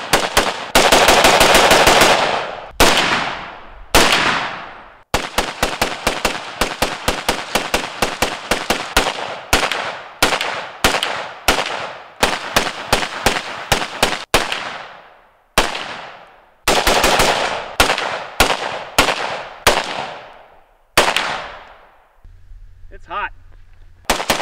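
A 5.45 carbine rifle fires at an outdoor range, sharp loud shots in fast strings and bursts with brief pauses between groups, ending in a quiet hum.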